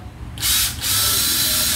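A National/Panasonic electric drill starting up: a brief whir, a tiny gap, then a steady high-pitched motor whine, loud and close.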